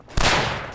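A single rifle shot in the World War I shooter Verdun, one sharp loud report with a lingering echoing tail.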